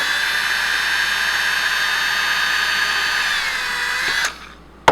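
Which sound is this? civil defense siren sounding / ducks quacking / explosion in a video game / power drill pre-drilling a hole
power drill pre-drilling a hole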